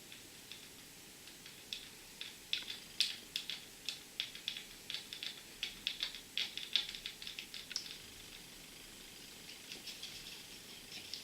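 A small AP-type screw being driven into a plastic part of a DeLorean scale model kit, producing a quiet series of rapid ratcheting ticks and clicks from a screwdriver, close up, with no talk.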